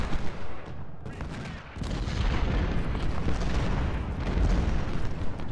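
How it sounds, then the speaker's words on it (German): Cannon fire from Civil War artillery in the strategy game Ultimate General: Civil War, a dense, continuous rumble of booming shots and battle noise that holds steady throughout at moderate loudness. "Scheiße, wie viele Kanonen haben die denn da?"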